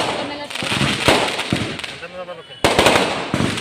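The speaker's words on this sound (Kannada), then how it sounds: "ನೋಡಿ ಪಟಾಕಿ ಹೊಡೆದ್ರು" Sharp firecracker bursts crackle in quick irregular succession at a wedding, loud and close, with voices talking underneath.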